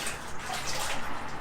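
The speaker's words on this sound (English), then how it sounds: "you're just gonna splash your face" Water splashed onto a face during swim-breathing practice at home, a short continuous wet splashing wash lasting just over a second, close and fairly loud.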